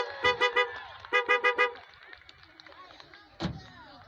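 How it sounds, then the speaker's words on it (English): A car horn toots at the 2023 John Lambert Days fireworks show in Ohio City: three quick honks, then a second run of four, loud and close, followed by a single sharp bang. "I just like to honk my horn"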